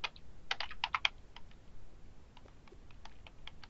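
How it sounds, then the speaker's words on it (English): Search terms typed on a computer keyboard, a quick flurry of crisp key clicks at the start, then sparser, fainter keystrokes trailing off, close and alone with no voice. "in the first search box, I'm going to type in my topic, which is ethnomethodology"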